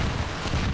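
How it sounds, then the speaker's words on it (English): Enemy bots firing guns in the VR shooter H3VR, a dense continuous rumble of distant gunfire with booming low thuds running throughout. "They're shooting."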